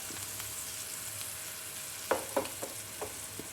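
Paneer shallow-frying in oil in a pan at home, a steady soft sizzle with a few sharp crackles and spatters toward the end, close and without talking.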